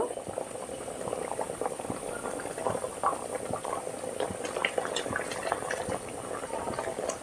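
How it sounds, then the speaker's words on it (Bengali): Sugar syrup with a few drops of lemon juice boils hard in a pot for a fried Chitrakut sweet, a steady rolling bubble with dense popping and gurgling throughout, close and even. "এটা দেখুন টকবক করে ফুটে গেছে"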